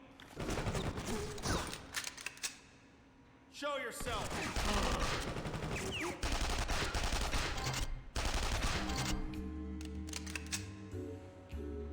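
Loud, dense bursts of rapid video-game gunfire fill most of the stretch with only brief pauses, while a voice calls out between volleys.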